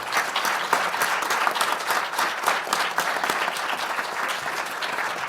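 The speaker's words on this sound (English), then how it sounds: "Let me ask you for a round of applause for this panel." Audience applause for a conference panel on US-Mexico relations, steady and dense clapping from a full room lasting throughout at even loudness, with no speech over it.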